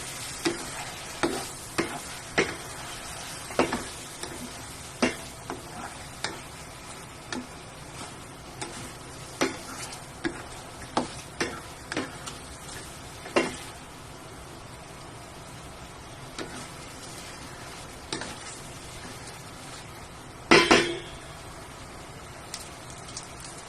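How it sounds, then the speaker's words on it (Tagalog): Chop suey vegetables frying in a pan with a steady soft sizzle, a spatula scraping and tapping in regular stirring strokes, a louder clatter near the end, no talk. "Halo lang natin."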